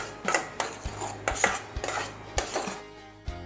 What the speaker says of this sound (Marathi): आता हे आपल्याला मिक्स करून घ्यायचं आहे सगळं